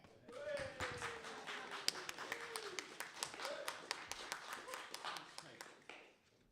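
Steady rhythmic clapping from a few people at an open mic keeps going for several seconds, crisp and fairly close, with a voice speaking briefly over the early claps.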